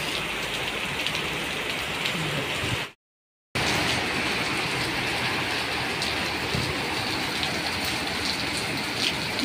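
Heavy rain pours down in Jeddah, Saudi Arabia, a steady loud hiss of downpour that continues without a break apart from a short silent gap.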